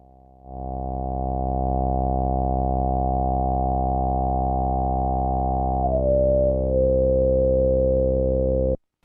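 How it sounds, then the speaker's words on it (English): A steady, buzzy synthesizer tone with rich harmonics holds for several seconds, a higher partial briefly sliding before it cuts off abruptly. "let's bring the oscillators back in and just try and get a feel for how they sound"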